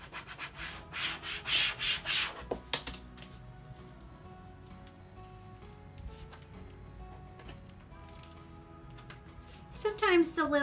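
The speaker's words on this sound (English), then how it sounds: "You can just rub over them and they'll re-adhere to the transfer tape." A hand rubs over a stencil laid on transfer tape for a wooden Easter sign, giving soft scratchy scraping strokes that come in bursts at first and then settle into a quieter, steady rubbing.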